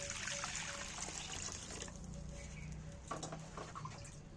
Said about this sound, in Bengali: এইবার আমি কড়ার মধ্যে খানিকটা জল দিয়ে দিচ্ছি